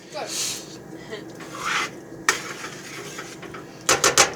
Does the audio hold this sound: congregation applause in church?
no